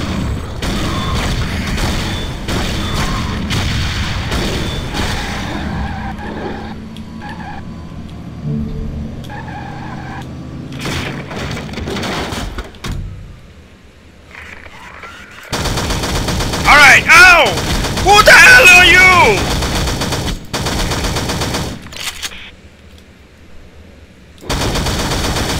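Sustained gunfire and explosions from the video game SAS: Zombie Assault 4, loud and continuous with bursts and booms, with a short quieter gap midway.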